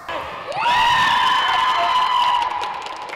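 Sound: sports fans cheering loudly at a volleyball match

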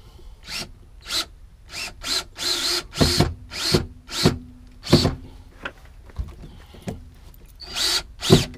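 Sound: power drill driving screws into cargo door bracket

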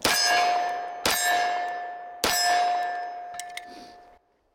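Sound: Dan Wesson Kodiak 10mm 1911 pistol fired single-handed

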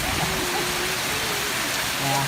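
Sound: rain falling

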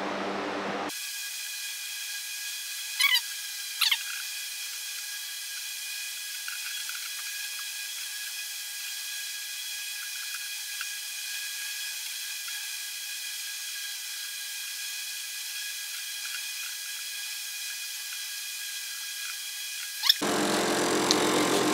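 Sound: coating sprayed over drilled holes in Jeep bumper

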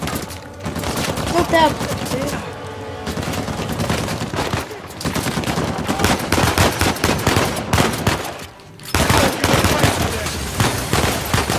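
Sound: gunfire in video game Uncharted 4 chase

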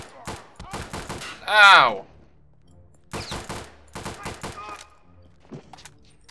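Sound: gunfire in the video game Return to Castle Wolfenstein

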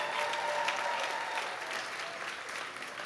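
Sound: applause

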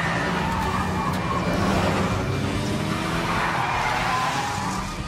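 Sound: car chase and ramming in Ghost Recon Wildlands video game

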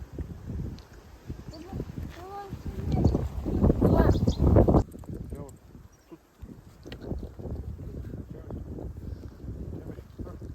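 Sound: wind

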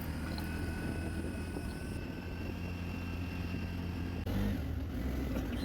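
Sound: auto rickshaw ride on a Kolkata road

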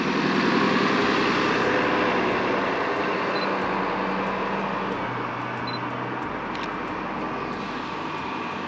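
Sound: bus or trolley passing on street

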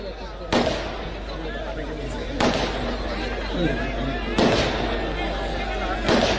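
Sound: firecrackers set off by fans at a rally

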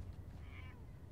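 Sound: cat meowing in video game Fallout 4

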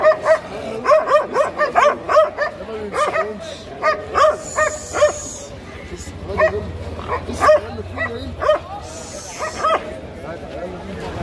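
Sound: dogs barking and whimpering at a dog market

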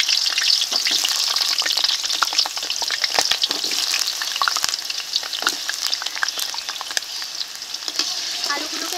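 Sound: potatoes frying in mustard oil

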